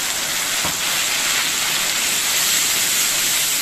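A loud, steady sizzling hiss of wet spice paste hitting hot oil over fried onions, for catla fish curry, fills the whole stretch without letting up; nobody speaks.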